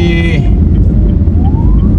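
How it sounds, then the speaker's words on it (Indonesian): An ambulance siren sounds as it passes along a road near Limbung between Makassar and Takalar, wailing tones over heavy, loud road and engine rumble from a nearby vehicle. "kebetulan ada lewat ambulans"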